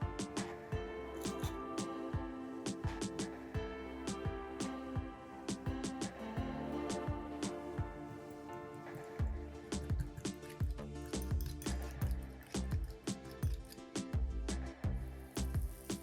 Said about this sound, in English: In a small bowl, beat egg, black pepper, salt,